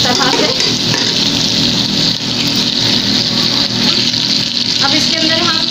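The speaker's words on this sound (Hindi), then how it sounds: "अब इसको हम भूनेंगे जब तक इसका कलर चेंज नहीं हो जाता।" Chicken pieces sautéed in a hot pan for aloo gosht give a loud, steady hissing sizzle that runs unbroken from start to end. A voice talks over it.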